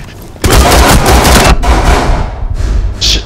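Rapid, loud pistol gunfire in the video game Rainbow Six Siege: a burst of close shots fired in quick succession, then a few scattered follow-up shots trailing off toward the end.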